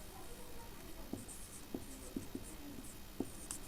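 Chalk or marker writing on a board during a maths lesson on complex number conjugates, a handful of crisp separate tapping strokes spaced about half a second apart, quiet and close, with no talking.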